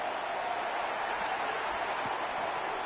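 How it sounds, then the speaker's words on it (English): A stadium crowd cheers at a Houston Texans football game, a steady, broad roar of noise that holds for the whole stretch without peaks. "Not quite the same roar out of the crowd, Kate, that you're going to get with a touchdown, but still plenty of noise coming down"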